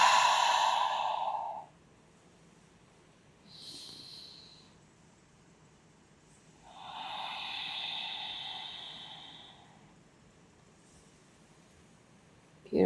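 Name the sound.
deep yoga breathing, inhaling and exhaling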